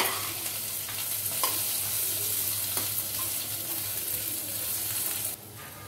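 Potatoes, curry leaves and green chillies fry with a continuous close sizzle while a spoon stirs the pan with occasional scraping knocks, cutting off abruptly near the end.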